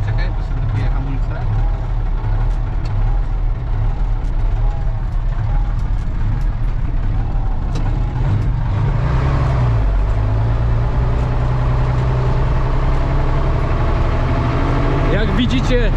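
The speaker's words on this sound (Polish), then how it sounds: "Jak widzicie, a raczej słyszycie, silnik pracuje głośno, więc komunikacja jest tutaj utrudniona." An old Star fire truck engine of a volunteer fire brigade runs loudly and steadily throughout, a continuous low rumble with people talking over it.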